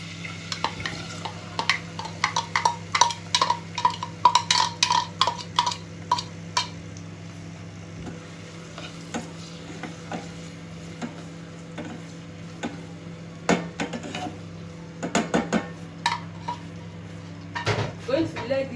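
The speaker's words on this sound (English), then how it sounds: "So now I will go in with my onion" Chopped onion sizzles and crackles steadily in hot oil in a pot for ugba sauce, with scattered ticking pops, occasional utensil clatter and louder bursts of stirring near the end.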